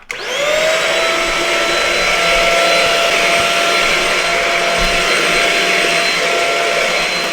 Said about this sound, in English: this doesn't take too long to vacuum, but the great thing about the vacuum is that it has the light